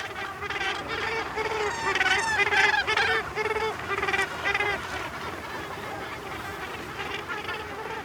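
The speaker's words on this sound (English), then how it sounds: "she deciphers the seabirds' behavior patterns and their sound communication." A dense colony of seabirds calls all at once, a steady overlapping chorus of harsh honking and crying cries at moderate distance, with no voices.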